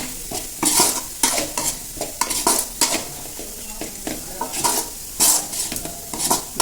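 Spices for mutton kuzhambu sauté in oil in a pan, giving a steady bright sizzle broken by frequent scraping stirs of a utensil against the metal, close and fairly loud with no talking.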